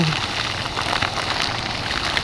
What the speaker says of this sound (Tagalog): Grabe. Ang lakas ng ulan sa Mindanao.